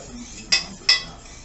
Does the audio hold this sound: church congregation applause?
no